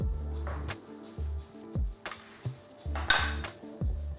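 A wooden utensil scrapes and clatters in a sauté pan while carrots and veal brown in butter for a blanquette, giving repeated short knocks and rustling scrapes at close range, with no voices.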